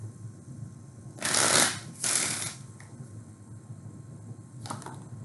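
Tarot cards are shuffled by hand in two quick riffling bursts, close and crisp, followed by a short quieter flick of cards in a quiet room.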